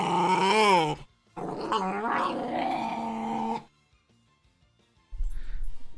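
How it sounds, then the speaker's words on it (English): Two dogs growling and playing indoors, close, rough vocal growls and grumbling roars in bursts with a brief silence between, ending in a short low scuffle. "Because I got 2 dogs and they're wanting to play right now."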